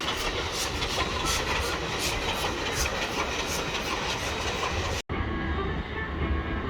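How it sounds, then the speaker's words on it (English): A Georgetown Loop Railroad train rumbles along the rails with a steady, loud clatter and rhythmic clicking, heard up close from on board, with a brief cut midway. "We are now going to take a trip on a train through the Georgetown Loop Railroad."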